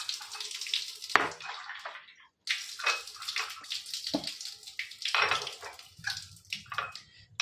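Tap water runs into a container in short separate pours, each a splashing, bubbling gush close by, broken by brief quiet gaps; the water is bore, Manjira and purified water for a TDS comparison.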